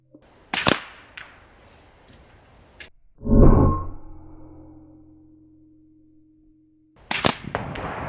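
Rifle firing outdoors: a sharp crack early on, then a heavier booming shot with a long ringing decay, and another crack at the end, with quiet gaps between.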